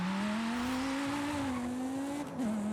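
A BMW M5 E60 engine in the racing game Forza Horizon 5 holds a steady, slightly rising drone at moderate level, with no talk over it.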